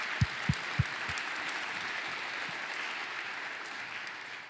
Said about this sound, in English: how about we give ourselves a round of applause for that